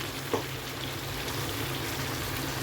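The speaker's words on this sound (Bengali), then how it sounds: "এই যে আলুগুলো ভেজে রেখেছি, আর এই যে কষানো হচ্ছে" Potatoes and spices sizzle as they are sautéed for biryani, a steady low crackling fry throughout, with one small clink near the start and no talking.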